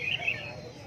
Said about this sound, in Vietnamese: Chim nhiều, có chim nhiều.